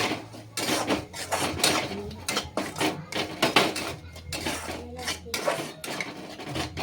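Spoon or spatula scraping and clattering against a cooking pan as spices and Maggi masala are stirred for a brinjal (vangi) sabzi, with repeated uneven metallic scrapes close by and a steady low hum underneath.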